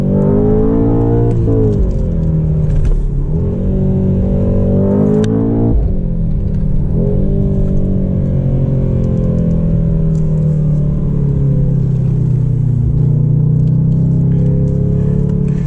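A Mercedes-AMG GT 63 accelerates hard with a loud, close engine roar that climbs in pitch through several gear changes, dips briefly at each shift, then settles into a sustained drone.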